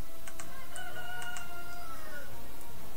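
A golden rooster crows in a Lunar Festival event in a video game, its harmonic cries rising and falling over about three seconds at moderate level above steady background game sound.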